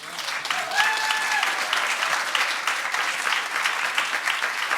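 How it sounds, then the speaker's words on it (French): An audience at a church gathering applauds steadily and densely for several seconds, a full, even wash of many hands without a pause. "est-ce qu'on peut l'applaudir une deuxième fois?"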